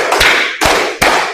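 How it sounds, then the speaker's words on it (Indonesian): Group clapping game in a classroom lesson, three sharp, loud claps evenly spaced in a steady rhythm with no talking. "katanya tepuk 1, tepuk 2, tepuk 3, tepuk 4,"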